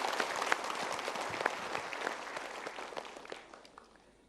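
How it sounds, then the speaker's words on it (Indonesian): An audience bursts into broad, dense applause at a motivational talk, steady at first and then fading away toward the end, with no voices over it. "kita berikan tepuk tangan."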